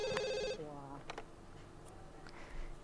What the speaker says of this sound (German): Genau, geh mal ans Telefon